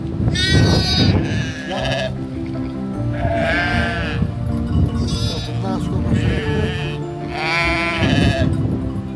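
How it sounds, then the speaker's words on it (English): Sheep bleating outdoors on a Sardinian hiking trail, several loud wavering bleats in repeated bursts from a nearby flock, with no talk over them. "I really hoped the mother was among those sheep."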